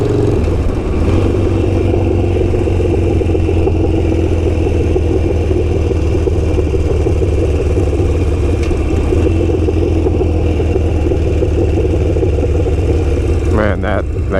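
Harley-Davidson motorcycle fitted with a Kinetic 'The Coil' exhaust, decelerating through downshifts: a loud, continuous low engine rumble with burbly, uneven exhaust crackle heard close up, with a brief rise near the end.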